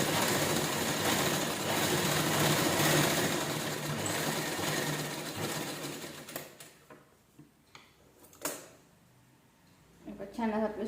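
A sewing machine stitches through a towel in a steady, fast mechanical whir for several seconds, then stops and gives way to quieter handling noises and brief clicks near the end, with someone talking.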